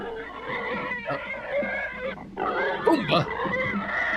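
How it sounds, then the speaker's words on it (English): A pig grunts and squeals nearby in rough, nasal bursts, with some overlapping vocal noise, the loudest squeal coming near the end. "A pig."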